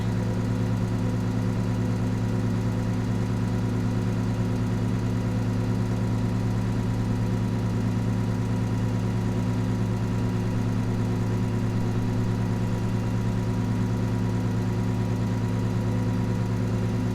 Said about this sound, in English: we are back in a tractor